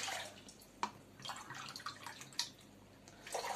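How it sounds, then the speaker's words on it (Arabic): Water poured into a pot while making Algerian baba syrup with sugar: a soft, uneven splashing and trickling with a few sharper drip-like splashes, moderately near, with no talk. "نزيد لها 4 كيسان ماء"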